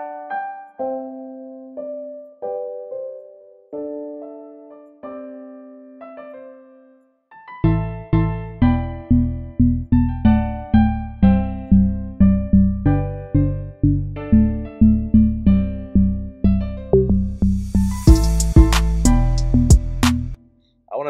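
A modern flip of a well-known song built in FL Studio: plucky piano chords play alone at first, then punchy drums and a heavy low end join in a steady looping beat that builds toward a bright burst near the end.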